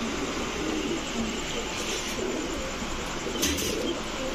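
Kashmiri racer pigeons coo softly amid a busy, noisy background hum, the low calls repeating faintly through the steady din.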